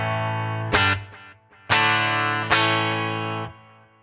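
Guitar through a Headrush unit set to the Echo Long delay, strummed chords ringing out with repeats trailing behind each strike, loud and close.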